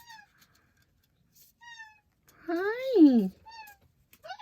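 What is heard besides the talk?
fluffy pet cat meowing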